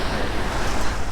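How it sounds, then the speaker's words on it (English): Heavy ocean swell surges around a sailing boat on a calm morning off Sabah, Borneo, producing a continuous rushing wash of water with mild wind noise and no speech. "got quite a lot of swell, as you can probably tell"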